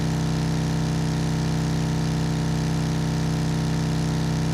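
A steady, droning V8 car engine hum in the video game Drive Beyond Horizons, with a low, even rumble holding constant throughout, loud and unchanging like an idling motor.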